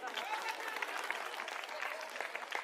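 Crowd applause at an Indian political rally, a continuous faint spatter of clapping heard from a distance with voices mixed in.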